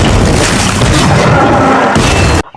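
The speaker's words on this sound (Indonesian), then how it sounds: "Jenderal Strickland akhirnya menggunakan bazooka untuk meledakkan Xenopex." A bazooka blast in a Venom action film scene: a loud, sustained booming roar of explosion and crashing debris that fills the whole stretch, then drops abruptly at the end, with no speech.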